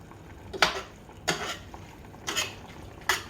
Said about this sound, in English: Let that simmer a little bit.